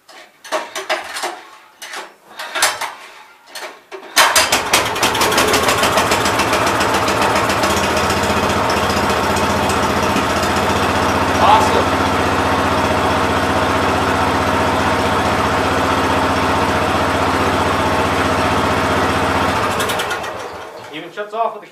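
A Kawasaki engine on a Gravely 5200 tractor with a broken recoil starter comes to life after a few seconds of talk and clatter, then runs loudly and steadily at idle for about fifteen seconds before shutting off.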